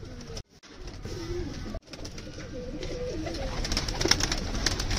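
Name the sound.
pigeons cooing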